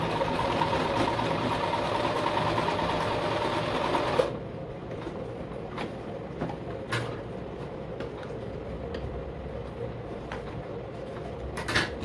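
Singer 1507 sewing machine stitching a buttonhole, with a steady continuous motor whir and needle clatter that runs loud for about four seconds, then settles into a quieter, lighter stitching hum.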